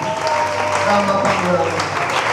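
A church congregation applauds together to acclaim the Lord at an evening worship service, a dense, steady wash of clapping at close range that holds for the whole stretch.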